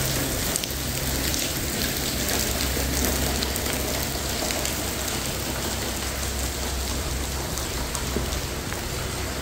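Heavy rain pours steadily outside an abandoned building, a dense continuous hiss with patter on surfaces and a low rumble underneath, loud and unbroken throughout with no talking.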